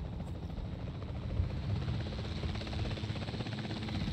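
A helicopter in the Jurassic World Evolution 2 park-building game drones with a steady, close rotor thrum that continues unbroken and unaccompanied by talk.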